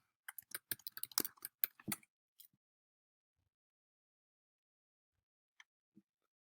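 A movie title is typed on a computer keyboard in quick, irregular bursts of close clicking keystrokes for about two seconds. Silence follows, broken by two faint isolated clicks near the end.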